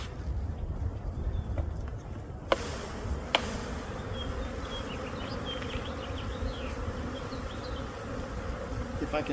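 Honeybees swarm around an open hive while it is split into three, making a dense continuous buzz close by with a couple of faint clicks and no speech.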